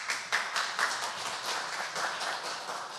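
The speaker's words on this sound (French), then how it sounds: "Un applaudissement, s'il vous plaît." Applause for the Republic of Djibouti at an official regional meeting, a moderate, fairly sparse round of clapping from a seated audience, with individual claps audible within the wash.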